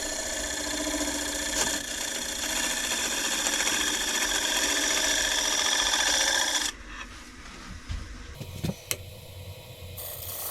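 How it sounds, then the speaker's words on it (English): A woodturning lathe spins a warped wooden bowl while an asymmetric scraper smooths its surface, giving a steady rasping, humming drone that runs loud and continuous for several seconds, then drops away to quieter scattered knocks and scrapes. "we're going to use our asymmetric scraper to get it all smoothed out"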